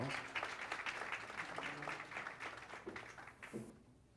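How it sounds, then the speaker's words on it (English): A political forum audience gives a round of applause as county chair candidates come up on stage, with faint, distant-sounding clapping mixed with crowd murmur that fades out toward the end. "give them a round of applause"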